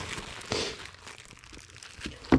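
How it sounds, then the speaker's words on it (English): Small plastic bags are handled up close, giving soft crinkling and rustling in scattered bursts with a sharper crackle at the end. "So I have these other little plastic bags that I'll use."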